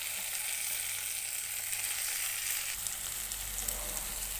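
Tomato pieces fry in a pan with onion and garlic paste, giving a steady, close sizzle that runs without a break and deepens slightly near the end. No voices are heard.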